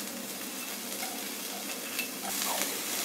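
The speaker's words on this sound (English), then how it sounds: "Now we are going to put some capsicum." Capsicum tossed into a frying pan for a quick egg and vegetable breakfast, stirred through steady, close sizzling with light scraping across about three seconds, no voices.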